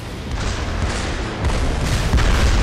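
An explosion in the Trials Fusion motorbike video game, a loud rumbling boom with a second heavier surge near the end, sustained over the whole moment without voices.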